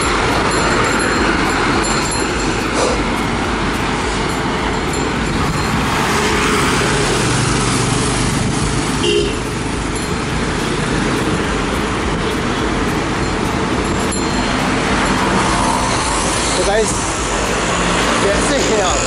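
A vehicle rides along an empty road, producing a steady loud rush of engine and wind noise with road rumble throughout, and someone speaks over it.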